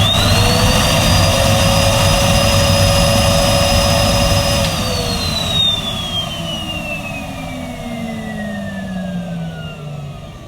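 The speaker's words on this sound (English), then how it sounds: "So this is going to show the sealed suction of Henry home." A Numatic Henry Home vacuum cleaner runs with a suction gauge adapter sealed on its hose, giving a loud steady whine that rises in pitch, holds, then slowly falls as the motor winds down.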